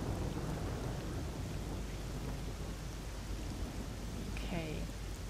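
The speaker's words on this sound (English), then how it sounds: "For a change, I think it's just thunder." Rain and rolling thunder in a video game, a steady, fairly faint wash of rainfall with a low rumble beneath, continuous throughout, and a brief higher tonal blip near the end.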